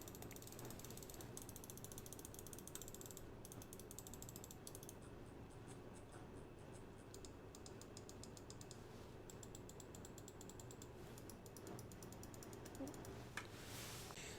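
Clicks from a Pulsar X2 Mini gaming mouse fitted with Huano Blue Shell Pink Dot switches, rapid sharp close-up clicking in bursts and runs over a quiet room background, with short pauses between volleys.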